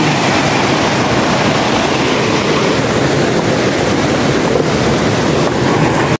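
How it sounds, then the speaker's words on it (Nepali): A flooded mountain river, swollen enough to wash away the trail, rushes past in a loud, unbroken roar close by, with no talking. "हेरौँ त कस्तो आइरहेछ खोला"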